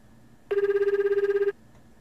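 Phone ringing inside the video game Tokimeki Memorial Girl's Side 3, heard as one steady one-second electronic ring. It has a fast warbling tremolo pulse, is loud and clean, and plays alone with no talk.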